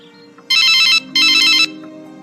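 A telephone rings twice in two loud electronic trills, close by, each about half a second long with a short gap between them, over faint background music.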